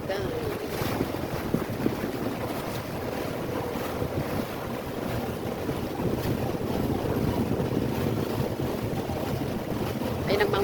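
A tour boat out at sea near Sai Kung, its motor droning under gusting wind buffeting the microphone and waves washing against the hull, loud and continuous throughout.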